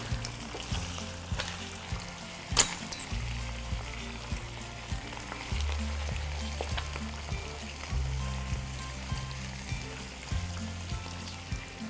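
Chicken pieces fry in sesame oil for Foochow red wine chicken, a steady close sizzle broken by repeated scraping and clacking as the meat is turned and stirred in the pan, with one sharp knock near the start.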